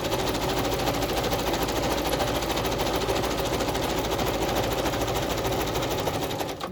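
A sewing machine zigzag stitching down the side of a vintage handkerchief pocket, a fast, steady mechanical whir with rapid rhythmic clatter that runs continuously before stopping at the end.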